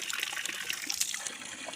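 Cold mountain water flows and splashes steadily in a hillside setting, a continuous close bright trickling rush with no talking.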